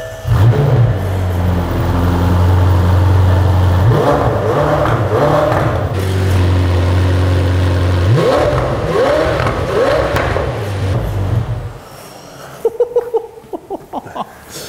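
A McLaren Senna's engine idles low and rumbling, then revs in several rising blips with crackling exhaust, close and loud, before cutting to quieter pops at the end.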